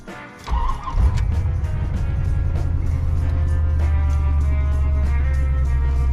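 A C4 Corvette with a ZF 6-speed manual idles in neutral with the clutch pedal pressed, giving a loud, steady, low engine rumble close by that stays even after a brief rise at the start.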